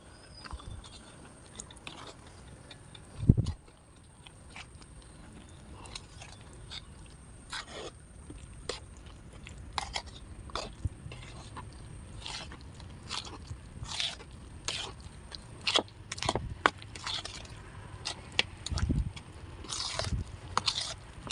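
Batter with half a cup of water being stirred in a bowl, with repeated scraping and soft clinking strokes at an irregular pace and one louder knock near the start.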